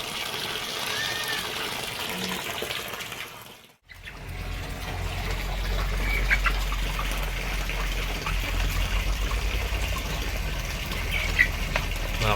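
Water falls steadily into an aquaponics catfish pond, a continuous close trickle and splash that drops out briefly and then resumes with a fuller low rush.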